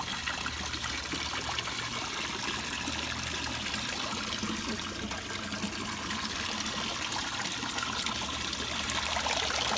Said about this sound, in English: So all this water is coming in here, it's filtering through all the different mediums that I have down in the bottom